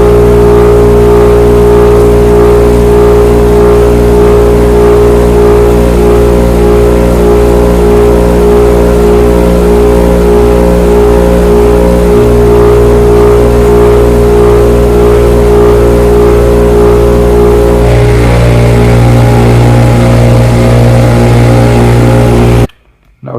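A modified Harbor Freight dust collector vacuums wood shavings off a table through a boom arm. Its loud, continuous motor drone and airflow roar are very close, the tone shifts briefly as debris is sucked in, and it stops at the end.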